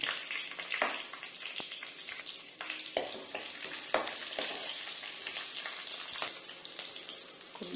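Mustard seeds, cumin and green chillies fry in a little oil, crackling and sizzling at a low level with scattered sharp pops and stirring scrapes, no talk.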